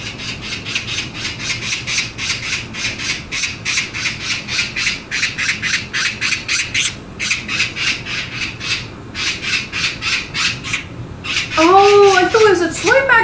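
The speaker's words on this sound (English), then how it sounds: "it's an actual magpie" A real magpie gives a long run of harsh, rhythmic squawks, loud and close and repeated steadily, before a voice speaks briefly near the end.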